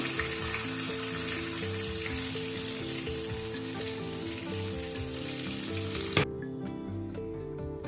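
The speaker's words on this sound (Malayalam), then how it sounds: "ആദ്യം തന്നെ വെളിച്ചെണ്ണ വെച്ചിട്ട് നമ്മുടെ ഈ ചതച്ച് വെച്ചിരിക്കുന്ന സാധനങ്ങളെല്ലാം ഒന്ന് വാട്ടിയെടുക്കുന്നുണ്ട്" Crushed ginger, green chillies and other ingredients fry in hot coconut oil with a continuous, dense sizzle and occasional stirring, ending with a sharp knock before the sizzle drops away.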